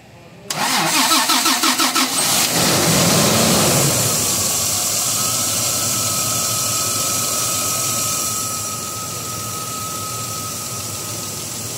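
A Toyota Land Cruiser 1FZ engine, freshly fitted with a reset cylinder head, cranks briefly, fires up with a loud rev, then settles into a steady, even idle, close by.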